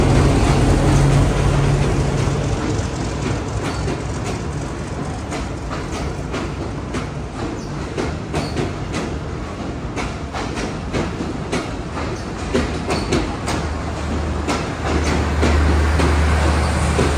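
A passenger train slowly pulls into Khulna railway station, a loud steady rumble with clattering wheels and rattling carriages that runs continuously throughout, with no talk.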